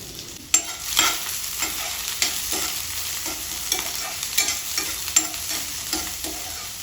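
Onion and green chilies fry in a pan for masala dosa, a steady bright sizzle with repeated scraping stir strokes and clinks throughout, close and loud, no talking.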